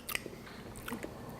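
Crunchy homemade sweet potato granola being bitten and chewed up close, a sharp crisp bite followed by a few soft, quiet crunching chews with no talking.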